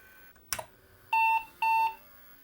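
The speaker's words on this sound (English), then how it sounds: "2 beeps and a black screen." An old IBM PC gives error beeps at startup: two steady electronic beeps, evenly spaced and clear, follow a brief click, with quiet background between them.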